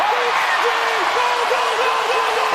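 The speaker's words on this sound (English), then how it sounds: "The crowd were going wild" Spectators at a men's world curling championship match roar with sustained cheering and applause, a dense wall of crowd noise with a commentator's voice running over it.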